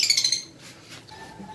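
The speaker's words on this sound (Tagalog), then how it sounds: "may bago tayong ibon." A newly acquired pet bird, a green new-wing opaline mutation, gives a quick burst of bright high chirps close by at the start, then falls quiet under faint room noise.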